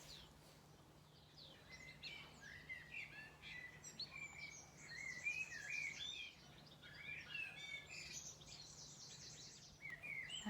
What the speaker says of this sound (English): I can still hear, a blackbird singing and a few other birds I can't quite work out what they are